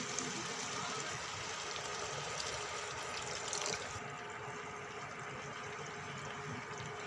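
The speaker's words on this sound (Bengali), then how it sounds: "সামান্য একটু জল দিলাম, একটু মাখা মাখা টাইপের হবে।" Water goes into a pan of cooking soybean curry, giving a steady hissing, bubbling sizzle that carries through the whole stretch, loud and close, with a slight shift partway through.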